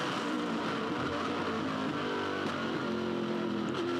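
A V8 Supercar engine revs hard during the 2006 Sandown 500 race, giving a loud, continuous, close onboard roar with rising and shifting pitch and no pauses.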